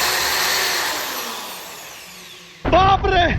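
A power drill whines steadily and loudly for about two and a half seconds during some work by a group of friends, then stops abruptly as a voice starts talking.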